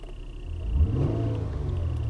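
A Honda or Acura engine with newly replaced bank 2 oxygen sensors is snapped open on the throttle. The idle rumble swells into a quick, loud rev and then holds at a raised, steady drone.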